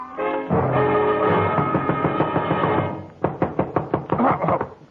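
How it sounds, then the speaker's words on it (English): A door is knocked on in an old radio detective drama, a rapid series of sharp raps coming after a sustained musical sting, loud and close with no voices. "somebody was knocking on my door"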